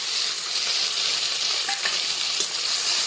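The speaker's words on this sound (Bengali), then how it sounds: "মাছের ঝোলের আলু কয়েকটা ভাজা হয়ে গেছে" Potatoes frying in oil for a Bengali fish curry give off a loud, continuous sizzle with a few scraping stirs, no one talking.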